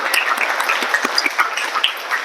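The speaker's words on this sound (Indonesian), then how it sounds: "tepuk tangan." Students in a classroom clap together, a dense, steady patter of applause close by, lasting about two seconds with no talking.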